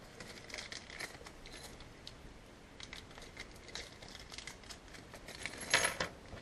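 A bag of small metal motorcycle RAM mount hardware being opened and its parts dumped out, soft plastic crinkling followed by light scattered clinks and rattles of washers and bolts, quiet and close.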